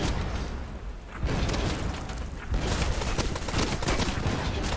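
An enemy ship's cannons fire on players in the pirate game Blazing Sails, a dense volley of booming shots and rumbling blasts rolling on loudly for several seconds.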